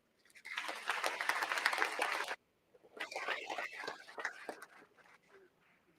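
Audience applause for an award recipient at a university employee recognition ceremony: a burst of clapping that lasts about two seconds, then stops. Quieter murmuring voices follow.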